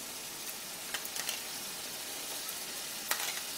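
Sour yogurt goes into a fried spice paste in a pan while cooking a doi pabda fish dish, giving a soft, steady sizzle with a few faint clinks and stirring noises and no voices.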